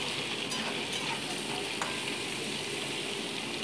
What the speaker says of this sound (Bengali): পেঁয়াজটাকে আলুর সাথে একটু হালকা ভেজে নিচ্ছি আমি